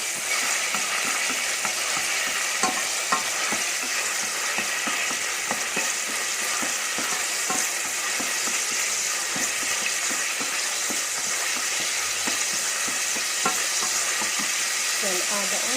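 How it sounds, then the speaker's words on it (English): Salmon fillets frying in a pan, a steady close-up sizzle running without a break, with faint crackles and small stirring or handling noises scattered throughout. "fry it."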